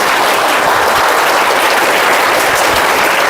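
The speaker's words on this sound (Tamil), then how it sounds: "உங்களோட டீச்சர்ஸ்க்காகவும் உங்களோட அம்மாவுக்காகவும் ஒரு பெரிய கைத்தட்டல்" Loud, dense applause from an audience, steady and sustained throughout, filling the space with no voices standing out.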